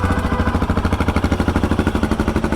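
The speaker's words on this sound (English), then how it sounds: "It's slightly louder than a stock exhaust with a decat pipe, because the end can is not restrictive like the stock end can would be." Royal Enfield Himalayan 450 motorcycle fitted with a rally exhaust and dB killer, idling with a steady pulsing thump, close and fairly loud, running alone without voices.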